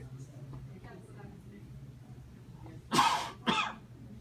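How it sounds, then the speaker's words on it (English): A patient coughs into a napkin during a clinical exam, two harsh, loud coughs about half a second apart after a quiet stretch with low room hum. "I'm going to have you cough into this napkin."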